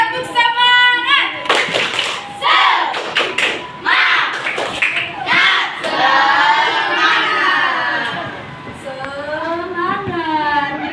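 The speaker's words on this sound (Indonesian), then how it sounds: "Oke, tepuk semangat dulu, biar semangatnya menggala." A primary school class claps through a rhythmic spirit clap, with bursts of group clapping and children chanting and shouting together in time. A teacher's voice leads between the loud, close claps.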